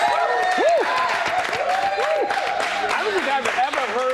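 A television studio audience and crew clap and cheer to welcome a guest, a steady bed of applause beneath overlapping excited voices and whoops close by.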